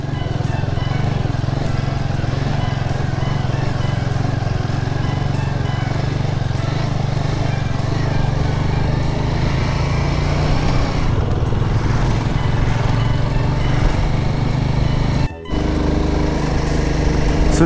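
A loaded Royal Enfield Himalayan 450 motorcycle being ridden through Ladakh, with a steady, loud engine drone and wind rush that continue without a break for the whole stretch.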